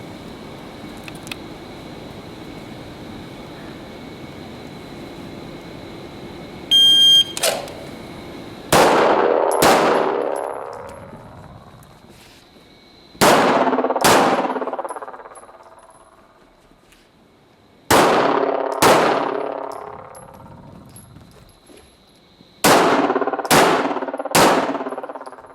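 A shot timer beeps, then a pistol fires in quick bursts of two or three shots, each ringing off steel targets with a bright clang, repeated in about five strings with pauses between, at a shooting range.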